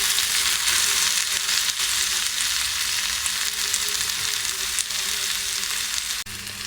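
Ground masala paste for ivy gourd curry fries in a pan with a steady, dense sizzle that runs continuously, loud and close, with a few faint scrapes of stirring.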